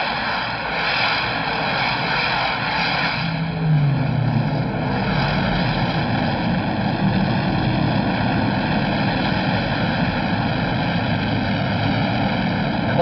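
Stock cars racing at Darlington in the 1970 NASCAR Rebel 400, a steady, loud engine roar with continuous droning harmonics throughout, heard as an old radio broadcast.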